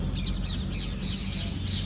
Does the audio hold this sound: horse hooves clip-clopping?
no